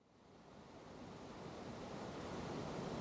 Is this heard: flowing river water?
yes